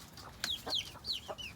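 A Jersey Giant rooster and chickens cluck softly nearby in a free-range forest flock, a few short high chirping calls in quick succession over quiet background.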